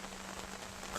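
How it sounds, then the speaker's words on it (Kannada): Heavy monsoon rain pours steadily in Kodagu, near flooded roads around Bhagamandala and Napoklu, making a dense, even hiss of drops striking surfaces, close and continuous with no voices. "ಎಲ್ಲಿ ನೋಡಿದ್ರಲ್ಲಿ ಮಳೆ ಮಳೆ ಮಳೆ,"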